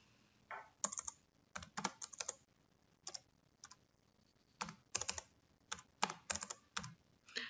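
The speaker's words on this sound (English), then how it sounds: "The item can be entered directly by typing a code." Keys clatter on a computer keyboard as a product code is typed into budgeting software, coming in short bursts of quick clicks separated by brief pauses, close and fairly quiet with no talk.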